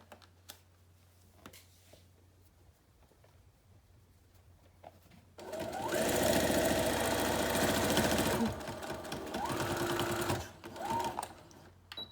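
A sewing machine stitching elastic onto a homemade fabric face mask: a few quiet clicks, then a loud, close, steady whirring run of several seconds, a slight dip, and a final short burst.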